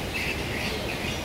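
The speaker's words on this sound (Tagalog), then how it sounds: "Ayan ang mga klase ng ibon dito." Birds chirp softly at a bird nesting spot, thin high calls repeating over faint background hiss for a brief moment.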